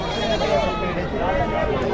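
Goats bleating in a busy livestock market at Chakan, Maharashtra, their calls continuous and overlapping with someone talking nearby.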